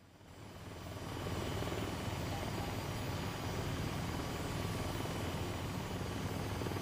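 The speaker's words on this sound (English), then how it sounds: "let me just reach my hand up near the whirling propeller." Steady whirring drone of an aircraft propeller in the VR flight game VTOL VR, with a fighter jet present, building over the first second and then holding loud and constant with no talking.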